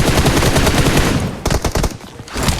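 Gunfire rattles in the mobile battle royale game PUBG Mobile: loud, rapid automatic bursts, then a short pause, then more scattered shots close by.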